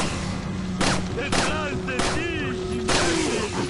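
Gunfire in Resident Evil 4, four loud separate shots spaced unevenly over a couple of seconds, each followed by ringing echoes and whooshes against a steady droning background.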